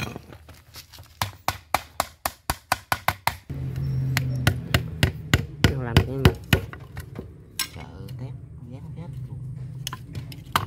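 Hammer blows from building a rat trap out of a tin can ring out in a quick run of sharp, evenly spaced metallic strikes, then give way to scattered knocks under nearby talking.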